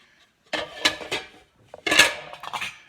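Thrift-store ceramic plates and bowls clinking together in a few quick bright clatters, close and fairly loud, with short pauses between handlings.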